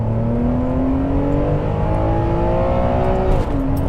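Ferrari 599 GTB accelerating hard in second gear on a slightly sandy road, its engine note climbing steadily and loud from inside the car, with a brief dip near the end.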